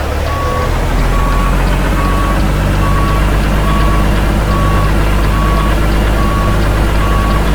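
A truck backing up with a trailer sounds steady, evenly spaced reversing beeps over a loud, constant diesel engine rumble, with brief talk nearby.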